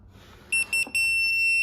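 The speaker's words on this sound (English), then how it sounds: "hold the reset button until you hear the beep voice" Heantle A2 smart lock giving a series of short, sharp electronic beeps after its reset button is held, three quick tones followed by a longer sustained beep, close and clear.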